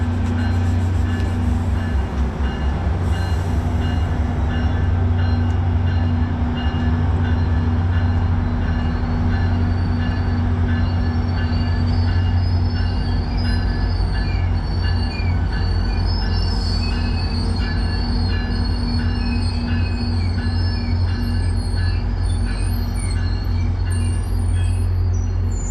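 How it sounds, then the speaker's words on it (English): A New Mexico Rail Runner commuter train heads south out of an Albuquerque station toward Belen, its engine rumbling loudly and continuously while wheels squeal and screech along the rails for about twenty-five seconds, with no voices. "we'll watch this train head out south"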